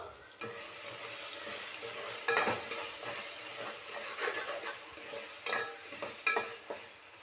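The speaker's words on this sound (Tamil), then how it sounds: "இப்போ ஒரு தக்காளி பழம், 3 பச்சை மிளகா அதையும் கட் பண்ணி இது கூட சேர்த்துக்கிறேன். இதையும் நல்லா வதக்கிக்குவோம்." Chopped tomato and green chillies sauté in a pan for chicken dum biryani, a soft, steady sizzle marked by intermittent scraping stirs and occasional utensil knocks.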